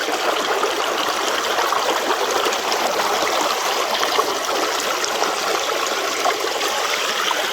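Water rushes steadily through a gold prospecting sluice box outdoors, a loud, continuous broadband splashing flow with no pauses.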